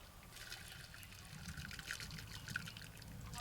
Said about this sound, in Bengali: ধুয়ে রাখা মুগ ডালটা দিয়ে দিচ্ছি।